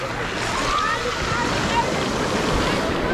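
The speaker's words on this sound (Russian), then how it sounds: "О, смотрите, волна какая." Sea waves washing onto Kalipso beach at Lazarevskoye near Sochi, a continuous broadband rushing surf close by, with gusty wind buffeting the microphone throughout.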